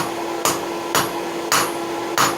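A 3.5 pound cross peen hammer strikes hot steel while forging nail header blanks. Four loud, evenly spaced metallic blows ring out about half a second apart over a steady workshop hum.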